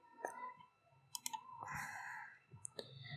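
Computer mouse clicks, sharp and close, several scattered single and double clicks over faint background hum and soft rustling.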